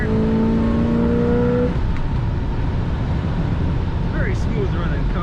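A 1967 Chevrolet Impala SS two-door hardtop with a four-barrel carburetor and manual transmission revs up on the road. A rising engine tone gives way to a loud, steady driving roar with road noise.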